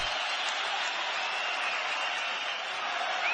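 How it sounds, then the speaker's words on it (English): Broad, steady roar of an arena crowd cheering during an MMA bout between Di Chiriko and Muradov, a continuous wash of noise with no talk in the foreground. "Crowd's getting behind them here"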